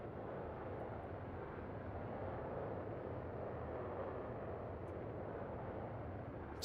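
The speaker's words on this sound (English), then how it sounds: "Sounds like a rocket engine." Boeing 737-200 jet engines in the X-Plane 12 flight simulator, a steady, loud, broadband roar held constant throughout with no breaks or talk.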